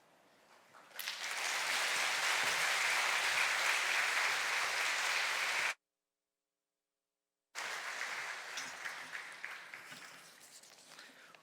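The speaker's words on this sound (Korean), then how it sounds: "우리 장로님께 다시 한번 큰 박수 드리겠습니다" Applause from a church congregation for a church elder, rising quickly into steady, full clapping that holds for several seconds, drops out abruptly, then resumes and gradually thins.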